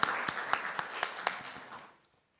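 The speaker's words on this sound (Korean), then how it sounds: "하나님께 영광의 박수 올립니다." A church congregation claps together in a rhythmic burst of applause with regular unison beats, filling the sanctuary for about two seconds before fading quickly to silence.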